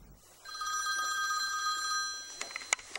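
An electronic telephone rings steadily for about two seconds in a film advertisement, then stops. A few short clicks and knocks follow near the end.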